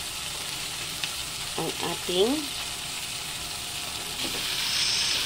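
Bean sprouts frying with tokwa (firm tofu) in a pan give a steady, soft sizzle throughout, with a brief voiced sound in the middle and faint stirring.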